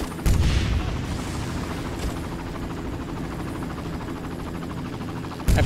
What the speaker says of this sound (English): This helicopter is going frickin' light speed here.